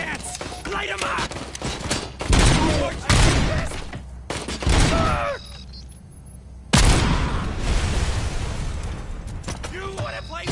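Video game gunfire aimed at Robocop crackles in dense bursts and sharp shots, loud and close, with pauses between volleys and voices shouting amid the shooting.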